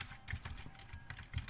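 Rapid keystrokes on a computer keyboard, a steady run of soft, close clicks with a few louder taps, with no talking.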